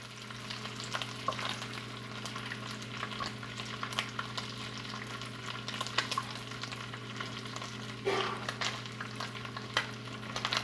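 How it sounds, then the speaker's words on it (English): Bacon strips crackle and sizzle in a pan in a steady low hiss, with scattered pops and a brief louder spatter around the middle, close and quiet with no talking. "I would suggest moving around the bacon in the pan so all strips can cook evenly"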